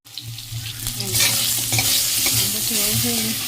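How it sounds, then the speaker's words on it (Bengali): Mustard seeds and panch phoron five-spice frying in hot oil, a loud close crackling sizzle with rapid popping and stirring that rises quickly and holds steady throughout. "এখানে একটু সর্ষে আর পাঁচফোড়ন ভাজছি"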